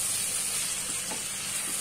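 Cauliflower and potato for a winter vegetable bhaji fry in a pan, giving off a loud, even hiss of sizzling with faint stirring underneath.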